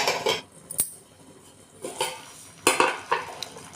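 A cooking pot of semiya and sago payasam is covered with its lid, producing several sharp metallic clinks and clatters at irregular intervals against quiet kitchen background, with no speech.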